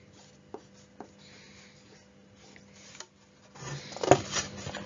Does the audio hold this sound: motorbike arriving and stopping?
no